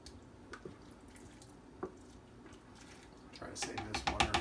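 Water pours and splashes faintly into a pot for potato carrot soup, with scattered drips, growing louder and more splashy toward the end.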